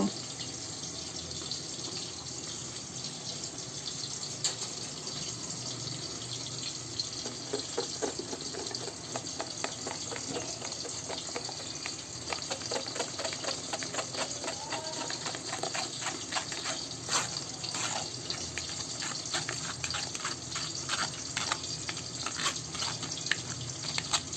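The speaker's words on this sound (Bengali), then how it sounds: "এইটাকে আমি এখন এর মধ্যে ছেঁকে নেব যাতে যে খোসাটা যে আছে ওই খোসাটা যাতে এর মধ্যে না পড়ে" A green apple mixture is strained through a sieve to hold back the peels, making a steady trickle and patter of liquid that runs nearly throughout with faint clicks.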